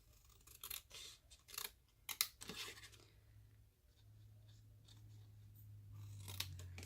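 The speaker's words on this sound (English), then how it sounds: "we are going to cut up this score line, and we are going to cut these 2 squares away." Scissors cut along a score line in card stock to remove corner squares for a papercraft card box. A quick run of close, crisp snips comes early, then a low steady hum remains.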